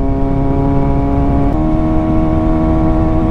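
A motorcycle engine runs steadily with a loud, droning exhaust pipe, holding a constant mid-pitched hum that shifts slightly halfway through, close up and without speech.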